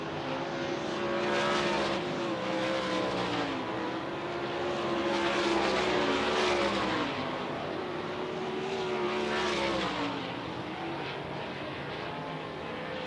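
A dirt track race car engine under power down the back straightaway during hot laps at Utica-Rome, a loud continuous roar that swells and fades as it passes, heard from a distance with no talk.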